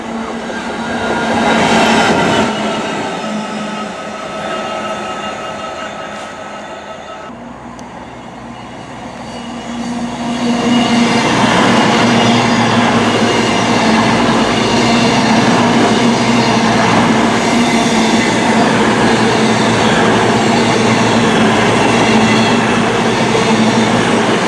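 A train rumbles through Water Orton station, rolling wheels and a steady mechanical drone building to a loud, continuous pass after a brief quieter lull.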